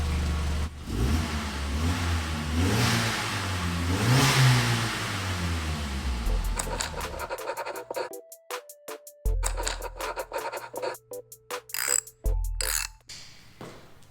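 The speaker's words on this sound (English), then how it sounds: "we're gonna give her some revs while she's stock." A stock Volkswagen Jetta MK4 engine idles then revs repeatedly, sharp bursts of acceleration rising and dropping, close and loud with brief pauses between.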